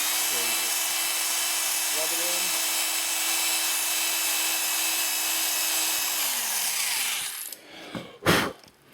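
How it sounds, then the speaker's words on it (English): A power drill spinning a wire brush attachment to clean a metal control arm bushing housing on a Ford Mustang rear suspension runs as a steady loud whir, dropping off near the end followed by brief scraping bursts. "So I've got the wire brush attached to my drill bit."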